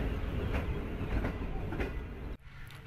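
The 18 Down Millat Express, hauled by a CRRC Tangshan locomotive, pulls into Haria railway station on a windy, cold day, its rumble and rhythmic clickety-clack of wagons loud and close, then cut off abruptly near the end.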